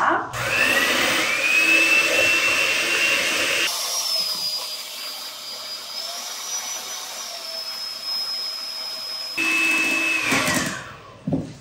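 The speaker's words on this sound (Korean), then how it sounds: "중속으로, 고속이 아니라 중속으로 휘핑 할게요." An electric hand mixer whips cold egg whites with half the sugar at medium speed for French meringue macarons, giving a steady whirring motor drone that runs close and loud with a shifting whine, pausing briefly near the end.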